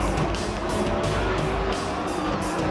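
Stock race cars roaring past on a 1.5-mile speedway, loud overlapping engine drones sweeping by in quick succession, close and dense.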